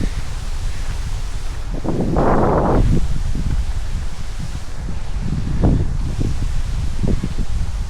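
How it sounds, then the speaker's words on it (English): Gusty wind rustling through leaves at a campground, with a steady outdoor rush and a couple of stronger swells of rustling. "a little bit windy today."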